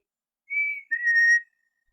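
A person whistles softly and sweetly to imitate a red squirrel's love note: two short, clear, high notes, the second longer, in a quiet room.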